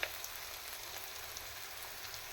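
Ingredients for karamani curry sautéing in a pan, a soft even crackling sizzle, fairly faint and continuous with no voices.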